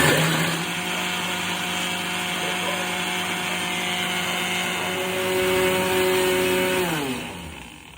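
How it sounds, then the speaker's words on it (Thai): An electric blender grinds Thai yellow curry paste with turmeric, a loud, steady whirring motor drone that holds its pitch for several seconds, then winds down and stops near the end. "ขมิ้นครับ ใส่ลงไปครับปิดฝาครับ แล้วก็ปั่นครับ"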